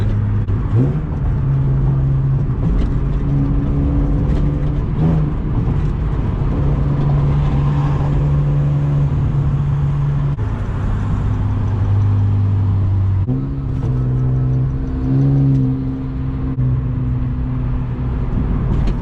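A nitrous-equipped Honda Accord V6 weaves through traffic, its engine droning loud and steady from inside the car, the pitch shifting up and down as it accelerates and changes gear.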